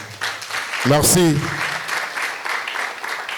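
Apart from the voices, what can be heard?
audience applause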